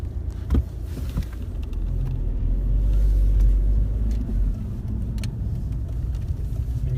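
A car rolls slowly up to a car wash in a shopping centre car park, its engine a steady low rumble that swells midway, with a faint click early on.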